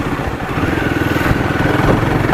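A Royal Enfield Guerrilla 450 motorcycle engine drones steadily and loudly while riding in third gear, with a rough, pulsing rumble and rushing wind noise throughout.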